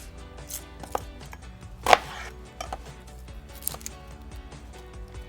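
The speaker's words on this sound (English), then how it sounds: "this is where the chopping comes in." A knife finely dicing red onion on a kitchen countertop, with scattered light taps and one louder cutting thud amid quiet kitchen background noise.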